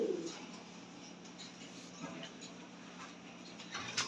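A male pigeon coos softly nearby, a low repeated murmur beside a female fantail pigeon, faint and close with quiet room noise around it.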